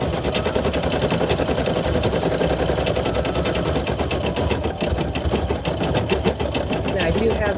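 A PE800 embroidery machine stitches in a fast, steady mechanical chatter of needle strokes, loud and continuous throughout with no pauses.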